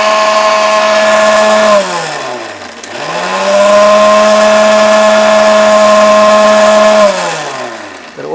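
An electric mixer grinder blending a homemade herbal hair paste: a loud, steady motor whine that drops and winds down at around two seconds, restarts to a long even run, then slows again near the end.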